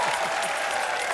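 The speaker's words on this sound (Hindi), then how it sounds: "चलिए तालियां." A studio audience on a Hindi comedy talk show claps in a brief, dense burst of applause with no pause, steady and fairly loud throughout.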